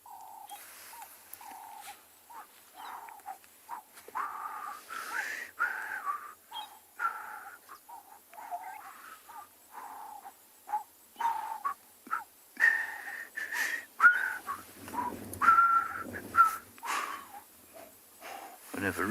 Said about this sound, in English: Lovely sound of the doves calling.